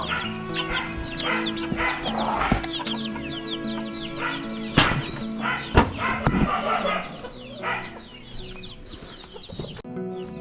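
A backyard chicken flock clucks and crows close by, with busy, overlapping calls rising and falling over about ten seconds and a sharp bark-like sound near the middle.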